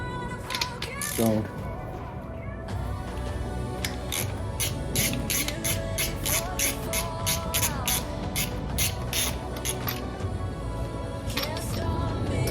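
A 13 mm socket wrench with an extension removing a bolt from a 2021 Ford Escape during starter installation, producing rapid, close ratcheting clicks in bursts with short pauses.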